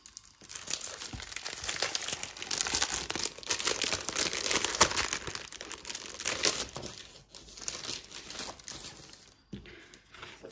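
Decorative craft papers with foil, taken from a planner subscription box, crinkle and rustle steadily as they are handled close by, a continuous papery crackle with brief pauses and no talking.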